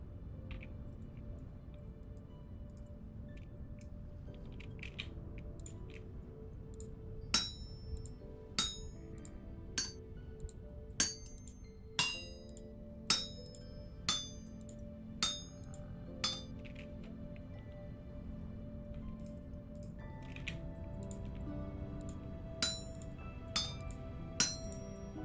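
Hammer strikes on a chisel at a blacksmith's anvil in the game Vintage Story, a steady run of about a dozen sharp metallic clinks at a regular rhythm, clear over a low ambient background.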